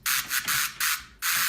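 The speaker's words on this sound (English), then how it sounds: "it's just a regular noise on the first operator of a citrus. Then the second operator is lowered 2 octaves and ring modulates the noise" Synth noise from an FM synth's first operator, ring modulated by a second operator tuned two octaves lower, plays as four loud hissing bursts in a quick uneven rhythm, close and alone.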